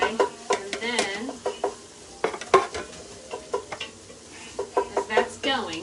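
Ground meat sizzles in a pan with onions and garlic for a Sunday gravy, while a spoon stirs and scrapes in quick uneven strokes, close and clear, with light talk in the background.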